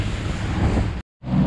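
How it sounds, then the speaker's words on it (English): Ocean waves break against rugged rocks on the Cape Verde coast during a winter swell, a steady roaring wash with wind buffeting the microphone, briefly cut to silence before resuming. "Gnarly little wave this."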